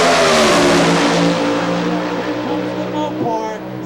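A Pro Stock drag car in qualifying at Maple Grove Raceway's Keystone Nationals screams down the track, its high engine note rising through gear changes as it pulls away and fades, while commentary runs underneath.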